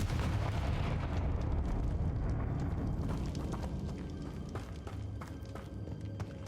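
A Confringo explosive spell in Hogwarts Legacy: a broad, loud rumbling blast that fills the whole clip and slowly fades, with crackling debris ticking through the tail.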